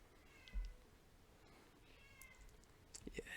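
A house cat gives soft, faint meows in a quiet room, a couple of short calls spaced apart with a light bump of handling noise.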